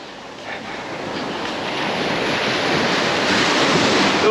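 Calm sea waves wash onto a beach at Cha-am in Thailand. The surf makes a broad, steady hiss that swells slowly louder, and some wind rumbles across the microphone.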